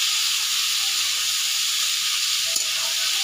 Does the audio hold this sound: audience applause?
no